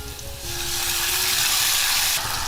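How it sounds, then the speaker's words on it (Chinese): Hot water poured into a wok of sizzling stir-fried minced garlic and dried radish, a loud steady hiss that swells after a brief quieter sizzle and stays strong to the end. "炒香了淋入小半碗开水"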